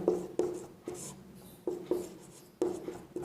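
Handwriting on paper during a maths lesson: soft scratching pen strokes in short repeated bursts with small taps at each start, close and quiet, no voice.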